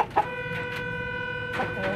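Farmyard chickens cluck in a few short bursts, one sharp cluck near the start and a couple more toward the end, close by over a steady tonal hum.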